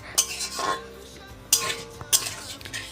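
A spatula scrapes and knocks against a pan while a paste of ground dried chili, cumin and ginger fries on medium-low heat for a stingray curry. About three sharp scraping strokes rise over a faint, quiet sizzle.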